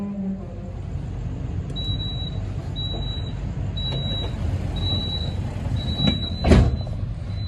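The Majapahit train departs Solo Jebres station at night: a low, steady rumble of the train pulling away, with repeated short high beeps from the doors or station and a louder rushing burst near the end.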